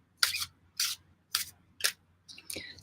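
A deck of cards with Pictish puppy designs on the backs is shuffled in five quick, crisp bursts of riffling, close by and alone against a quiet room.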